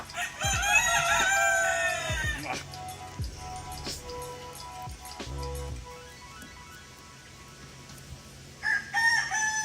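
A rooster crows loudly and clearly amid a backyard chicken flock, with clucking and scattered bird calls around it, a second crow rising near the end, and voices talking in the background.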